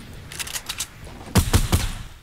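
Weapon fire in a video game rocket attack: a quick cluster of faint reports, then three louder, heavier blasts in quick succession, each with a thumping low end.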